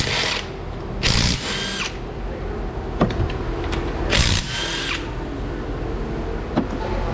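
Pneumatic or electric power tool spinning wheel bolts off a Mercedes C 250 in a workshop, with loud whirring bursts near 1 s and 4 s and short clanks between them over steady shop background noise.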